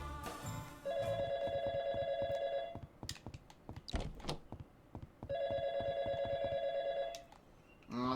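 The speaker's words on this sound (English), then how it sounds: "Where's Michael on the phone again?" Telephone ringing in the YIIK video game, two long electronic ring bursts separated by a pause of clicks and thumps. The rings are loud and close, with no speech.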